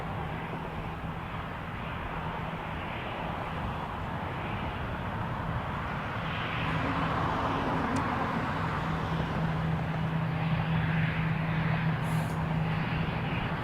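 An airliner taking off from runway 23 at Toronto Pearson Airport, a broad continuous engine roar that swells slightly louder partway through and holds steady, heard from a distance with no talk.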